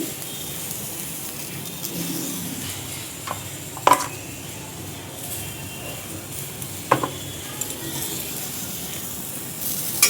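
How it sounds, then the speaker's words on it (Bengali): Mango pieces frying in a pan, a steady close sizzle with a couple of sharp utensil clinks partway through. "আমটা এখানে ভাজা ভাজা হচ্ছে।"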